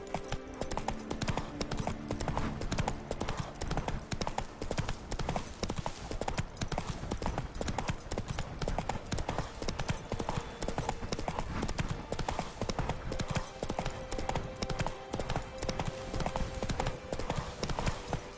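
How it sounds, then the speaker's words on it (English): In The Witcher 3, the horse Roach gallops in a fast, continuous clip-clop of hooves, loud and close, with a faint voice now and then over the pounding rhythm. "Run, Roach"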